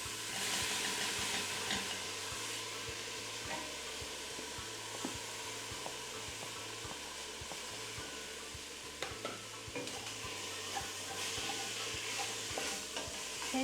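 Spices and leaves stirred into a pot of soup, a soft steady sizzle and simmer with a repeating low scraping rhythm of the spoon, faint and close, with occasional small clinks.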